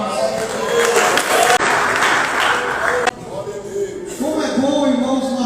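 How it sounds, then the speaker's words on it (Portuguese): A church congregation claps together in praise, the clapping blended with loud speech or singing that continues throughout, with a short break in the middle. "glorificando a Jesus com as palmas"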